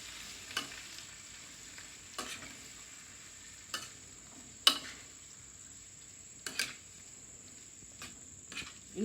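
Chopped ripe tomatoes fry softly in a pan for tomato chutney, a quiet sizzle broken by about half a dozen sharp scraping strokes of a spoon at irregular intervals.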